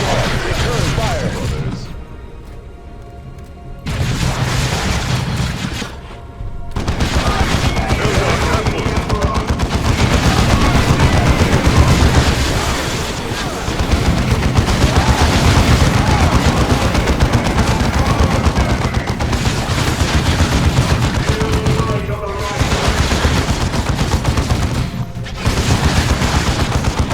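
Heavy battlefield din from Dawn of War II: sustained machine-gun bursts, rattling gunfire and thudding explosions, loud and dense with short gaps, while voices speak over it.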